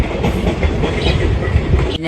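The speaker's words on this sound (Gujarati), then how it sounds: "આપણે હવે રેલગાડી આવી ગઈ છે" A train passing close by gives a loud, continuous rumble with rail clatter that cuts off abruptly near the end.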